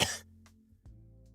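A single sharp cough close to the microphone is followed by a brief throat clearing, recorded alone in a quiet room while voicing character lines for the game Guts and Blackpowder.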